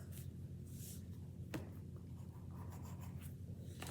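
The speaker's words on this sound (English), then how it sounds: "draw a star on October 7th" Pen or marker drawing a star on a paper calendar, faint close scratchy strokes over a quiet room hum with no talk.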